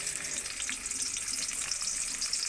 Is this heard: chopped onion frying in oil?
yes